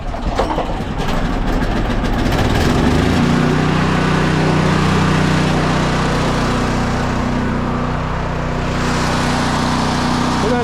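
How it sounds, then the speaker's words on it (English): A portable generator, pull-started with full choke at a camp, runs loudly nearby with a rough, steady engine drone that settles into an even hum after a few seconds. "So there's a pull start on it too, so we'll pull start it."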